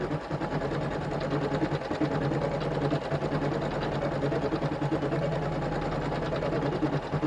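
An embroidery machine stitches a continuous quilting design, its needle hammering in a steady rapid mechanical rhythm, loud and close, running alone throughout.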